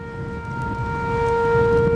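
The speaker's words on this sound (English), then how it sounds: "The sirens are designed to be heard a mile away." A loud, steady outdoor storm warning siren holds a sustained wailing tone that swells slightly over two seconds, heard alone without voices.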